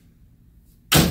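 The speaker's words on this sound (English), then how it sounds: "all of them have a dual latch system, top and bottom, to make sure that this door seamlessly" Heavy door on a prisoner transport van with a dual top-and-bottom latch system swings shut in one loud, solid slam after quiet low rumble, close by with no voices.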